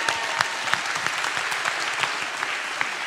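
An audience at a motivational talk breaks into steady, full applause, many hands clapping in a dense continuous roar, fairly close and loud, with no distinct voices.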